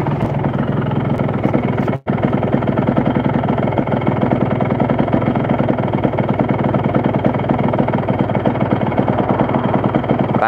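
A Yamaha RX King motorcycle engine runs close by with a steady, dense mechanical drone and a rapid pulsing beat that holds throughout, broken only by one brief dropout near the start.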